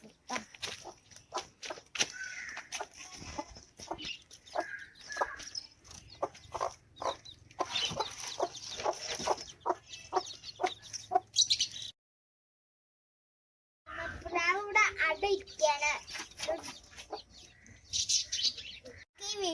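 Hens cluck repeatedly in short rhythmic bursts, close by, with chirps and a brief silent gap partway through.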